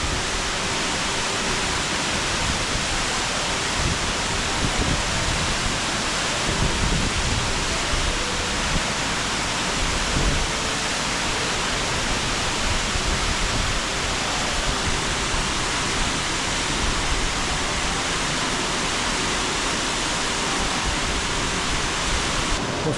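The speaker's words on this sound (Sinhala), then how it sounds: "නාඇල්ල ඉඳලා අපි මීමුරේ යන අඩිපාරේ ආපුවාම දකුණු පැත්තට හම්බෙන මේ විශාල ඇල්ල තමයි කොස්කොල්ල ඇල්ල" Koskolla waterfall near Na Ella in Sri Lanka roars in a steady, dense rush of falling water, loud and unbroken throughout with no other sounds.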